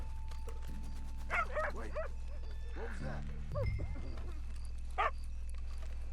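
Dog in a cemetery in the video game Red Dead Redemption 2, giving several short yips and whiny barks spread across the moment over low game ambience, with someone talking between them.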